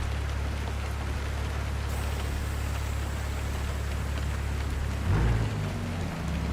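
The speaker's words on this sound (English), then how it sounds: "And just my luck, it's raining." Steady rain patters under a low truck engine rumble in the video game American Truck Simulator, a Kenworth W900 hauling grain at night, with a brief heavier burst of noise near the end.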